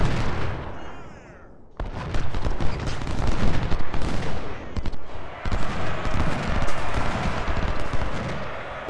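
Cannon blasts and rolling musket gunfire from a Union battle at Shiloh in the Civil War strategy game Ultimate General: Civil War: loud, dense and continuous, with heavy booms among crackling volleys.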